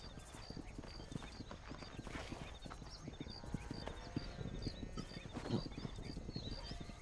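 Horse hooves clip-clop at a steady trot in Red Dead Redemption, a dense run of fairly quiet, close hoofbeats with a brief whinny partway through and no talking.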